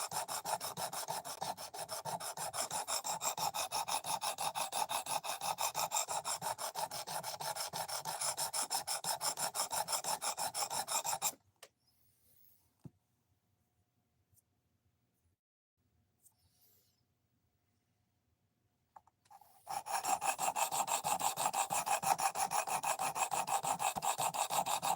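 A knife being sharpened on a Wicked Edge sharpening system, steady rasping strokes running continuously and close, breaking into a near-silent pause before the rhythmic filing resumes.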